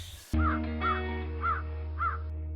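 A crow caws four times in an even rhythm, each call close and clear above a steady low drone.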